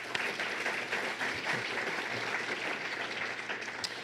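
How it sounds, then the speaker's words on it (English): A room full of people applauds steadily for a panel at an energy summit, dense clapping that holds an even level throughout. "If we could please welcome our panel with a round of applause."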